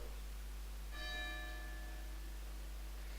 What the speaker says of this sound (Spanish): Sonó la campana, al recreo.